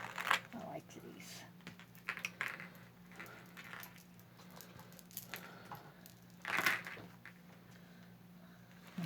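Vintage milk glass bead necklace, knotted between the beads and 48 inches long, handled with light clicks and soft rattles of glass beads, two sharper bursts standing out against a quiet background hum.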